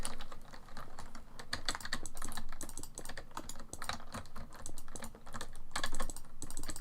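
Rapid, clattering computer keyboard keystrokes heard up close and loud, a continuous burst of typing with brief dips in pace, alone without speech.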